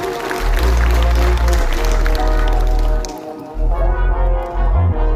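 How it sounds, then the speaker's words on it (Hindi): Large crowd at a Mission Jai Bheem rally applauding loudly, a dense wash of clapping that briefly dips near the three-second mark before swelling again, with faint voices mixed in. "आप सब लोग एक बार तालियां बजाकर उनका सम्मान करें"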